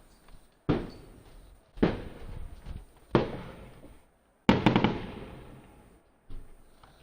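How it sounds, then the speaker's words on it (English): Fireworks bursting outside, five sharp loud bangs at irregular intervals, each trailing off into a crackling, rumbling decay, with short quiet gaps between them. "Is that even legal to have fireworks?"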